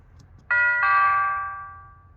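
A Nest Doorbell (battery model) plays its Bells theme chime: two quick bell strikes followed by a ringing tone that fades out slowly, clear and alone over a quiet low hum.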